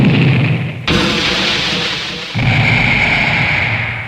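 A pair of booming explosion sound effects for an RPG Maker 2003 game, each bursting in sharply and trailing off in a long rumbling decay, the second starting before the first has fully faded.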